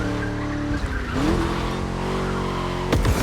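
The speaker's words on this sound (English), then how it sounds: "Just listen to that V8, like a chonky, down-tuned guitar riff" A V8 Ford Mustang engine in the video game The Crew Motorfest roars steadily with a deep, throaty tone, then tires squeal briefly near the end, loud and close.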